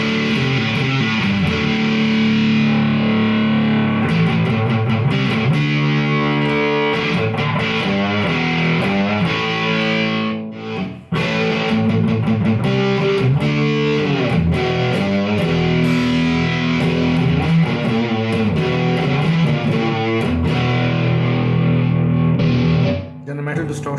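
Heavily distorted electric guitar chugs and rings through a Vox Valvetronix VT40+ amp on its orange distortion setting, dense and loud, with a brief dip near the middle before the crunchy riffing resumes.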